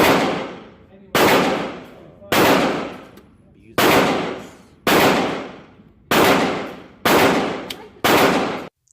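Seven loud gunshots at a shooting range, each sharp report followed by a long decaying echo, spaced roughly a second apart and heard close up with no talk.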